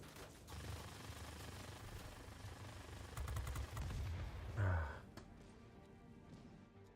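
Rapid bursts of gunfire from World of Warplanes rattle in fast repeated cracks, with a louder burst and a sharp impact near the middle, fading into quieter engine drone afterward.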